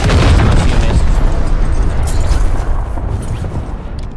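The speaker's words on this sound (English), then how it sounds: "Tactical nuke incoming!" A tactical nuke detonating in Call of Duty: Warzone: a massive, loud, rumbling blast with heavy low-end roar that sustains for a few seconds, then slowly fades with debris-like crackle.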